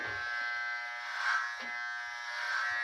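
Andis T-Outliner electric clippers shave a head with three days of stubble, giving a close, continuous high buzz with a slight dip in tone partway through and no talking.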